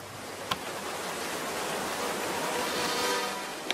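A large waterfall in a Fireman Sam cartoon roars as a steady, broad rushing wash that swells slightly toward the end. Two faint clicks sit at the start and finish.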